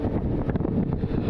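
Gusty wind buffeting a microphone at an airport plane-spotting spot, a loud close rumbling roar that wobbles through a short burst.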